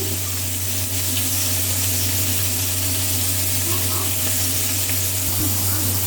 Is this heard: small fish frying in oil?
yes